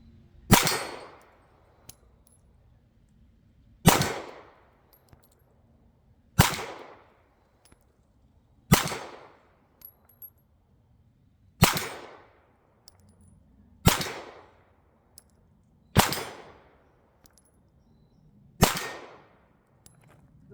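A German Artillery Luger pistol fires eight sharp, loud single shots on an outdoor range, spaced roughly every two to three seconds. Each crack decays quickly, with faint clicks between shots.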